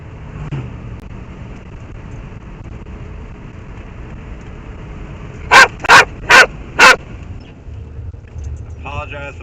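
Dog barking inside a car during a tornado chase in Missouri, four loud close sharp barks in quick succession over steady vehicle road rumble, followed by a short whimper.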